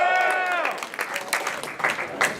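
An audience at a Los Angeles Comic Con panel claps and applauds, a brief patter of hands that follows a short voice at the start.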